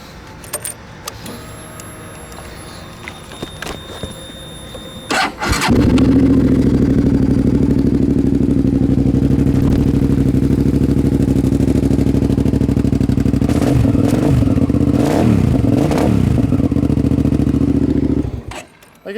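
A 2009 Hyosung GT650R motorcycle engine cranks over after some light handling clatter, catches, and settles into a loud, steady close-up idle that runs unbroken for about thirteen seconds before cutting off.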